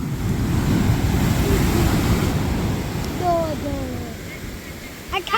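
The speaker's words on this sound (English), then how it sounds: "The waves are pumping in." Ocean waves roll onto a beach as a steady, full surf roar with some wind buffeting. The roar eases slightly toward the end, and faint high chirping comes through over it.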